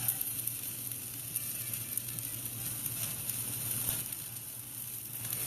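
A T-bone steak sears on a hot gas grill, giving a continuous close sizzle with a fine crackle that runs steadily throughout.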